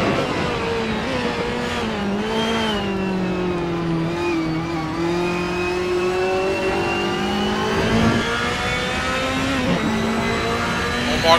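Race car engine in a GT racing video game at Vallelunga, a steady high-pitched whine that rises and falls as the car works through corners, loud and continuous with a brief rasp near the end.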